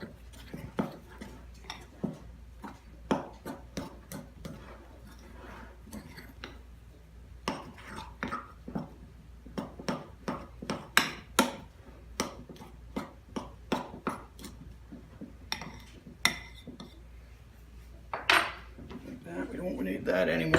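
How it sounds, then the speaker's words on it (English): A butter knife stirs dry biscuit ingredients in a bowl, making a steady run of sharp clinks and taps against the bowl's sides with soft scraping between them, close and fairly quiet. "I just use a butter knife to stir it"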